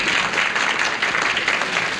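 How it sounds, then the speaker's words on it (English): A studio audience at a 1975 television game show claps in a steady burst of applause, dense and sustained for the whole clip with no voices over it. "The yellow sections applaud your good fatherhood."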